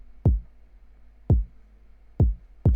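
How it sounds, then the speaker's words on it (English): Solo kick drum from a produced beat: four deep, booming thumps spaced roughly a second apart, close and punchy, with brief decays and nothing else playing. "And of course we have the kick."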